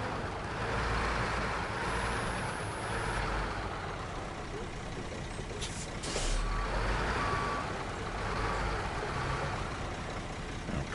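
Truck backing up a trailer in the SnowRunner video game, with steady reversing beeps over a constant engine drone and a brief hiss of air brakes partway through.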